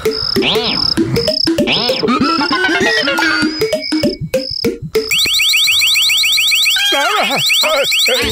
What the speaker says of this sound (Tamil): யாராவது இந்த கஜனாவை திருட வந்தாங்கன்னா அப்புறம் இதுல சத்தமா அலாரம் அடிக்கும்